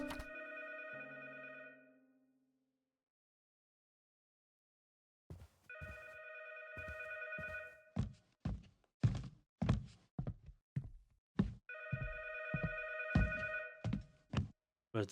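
An old telephone in the video game 12 Memory Lane rings in several long electronic bursts with pauses between them, while footsteps and hollow thunks sound around it in a quiet room.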